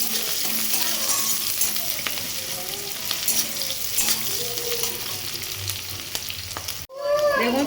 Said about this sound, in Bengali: দেখুন পেঁয়াজ ভালোভাবে ভাজা হয়ে গেছে